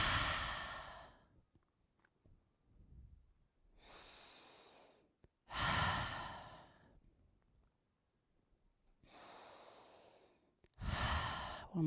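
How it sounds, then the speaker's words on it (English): Slow, deep breathing during a gentle yoga mermaid pose, several long audible exhales and softer inhales alternating with quiet pauses, close and intimate. "Inhale, exhale."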